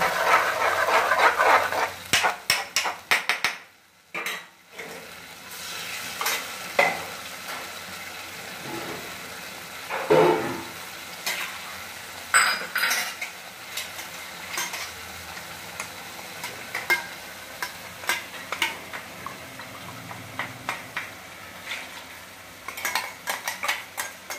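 Palak paneer stirred in a pan with a utensil, giving irregular scraping and clinking strokes of metal against the cookware with brief pauses between bursts, close and fairly clear.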